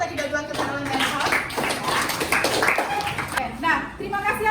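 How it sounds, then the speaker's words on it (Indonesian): Schoolchildren in a classroom clap for the first group of presenters, a dense patter of hands mixed with children's chatter and an adult voice throughout. "beri tepuk tangan untuk kelompok 1 tadi udah diwakilkan oleh Nelson"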